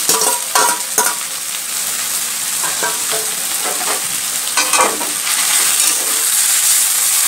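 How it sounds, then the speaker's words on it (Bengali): Beaten egg poured into a hot pan of frying chichinga (snake gourd) hisses into a steady, close sizzle, with scattered spatula scrapes and stirring knocks over the crackle. "ডিমের ভুজিয়া করে রেখেছিলাম সেটাকে ঢেলে দিচ্ছি"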